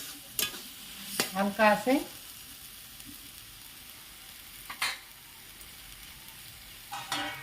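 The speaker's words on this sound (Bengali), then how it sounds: "এবার কচু যত কষাবেন তত ভালো লাগবে।" Colocasia leaves cooked with chickpeas being stirred and sautéed in a pan, with soft scraping strokes and a low sizzle in bursts, and a brief spoken remark partway through.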